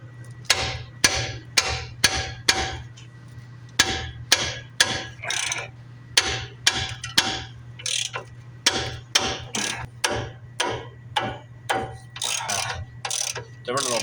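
A ratchet fitted with a 19 mm socket works rusty brake caliper bracket bolts on a Nissan Frontier, producing sharp repeated clicking bursts in quick strokes, close by over a low steady hum, with no talk.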